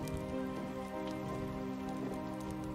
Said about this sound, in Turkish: Yağmur hala.